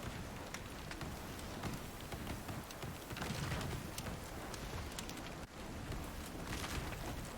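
Steady rain in the survival video game Icarus, a dense, even patter with scattered sharper drops, continuous throughout at moderate loudness with no talk.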